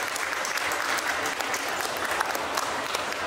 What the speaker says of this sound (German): Ich würde auch hier an der Stelle einmal kurz Applaus bitte für den Development Part